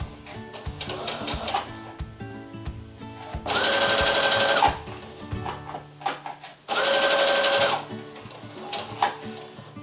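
A sewing machine runs a straight stitch along a cosmetic pouch in two steady bursts of about a second each, with quieter handling clicks and rustles between runs.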